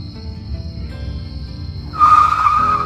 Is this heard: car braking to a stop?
yes